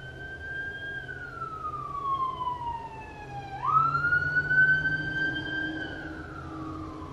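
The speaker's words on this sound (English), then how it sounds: "here we got some sirens coming" Emergency sirens wail nearby, the pitch gliding down, then jumping up and holding as the vehicle passes, with a low road rumble underneath.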